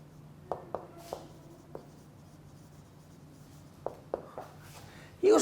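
Marker or chalk strokes on a board during an English lecture: two quick bursts of short scratchy scribbles separated by a pause, fairly close and clear over a low steady hum, ending in a louder rustling thump.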